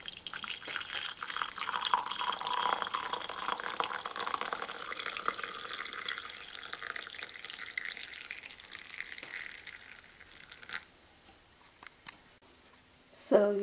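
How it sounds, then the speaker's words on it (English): Hot chocolate tea poured through a strainer, a steady close trickle of liquid that thins out toward the end before a brief clink. "Use the strainer and strain this."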